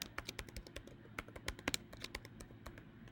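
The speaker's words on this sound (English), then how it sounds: "Just to show you really quick, I'm just going to type some stuff." Rapid typing on a computer keyboard, with quick irregular clusters of clicky keystrokes over several seconds, heard close and on its own without talk.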